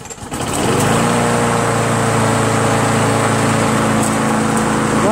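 A Craftsman push lawn mower with a 4.75 Briggs & Stratton Quantum engine starts and settles into a steady, loud, close running drone with a buzzing high-pitched whine, running alone without voices.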